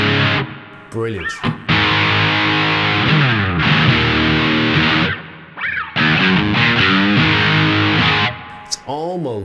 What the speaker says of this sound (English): it's not fuzz, it's just heavy distortion